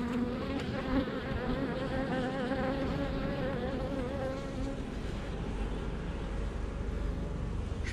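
Honeybee swarm buzzing steadily in a dense continuous drone, many bees close by, constant and unbroken with no talk over it.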